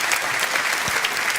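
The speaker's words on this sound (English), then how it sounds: "Round of applause there" A political rally crowd applauds, a dense, even wash of clapping that carries through the whole short moment.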